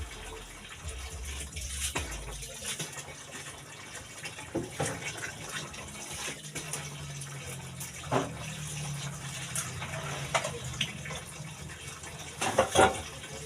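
Running tap water for washing, a steady faint rush of flowing water with scattered small splashes and clinks, somewhat distant, no speech.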